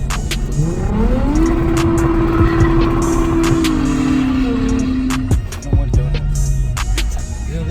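A Lexus IS350 drifting, its engine revving hard and holding a steady high note before dropping off, loud and close, with tire and mechanical noise and a second lower rev near the end.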